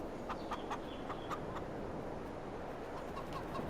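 Chickens clucking in the Court Farm farming video game, a low steady run of soft bird calls and short clucks over a dense background hum, with no talking.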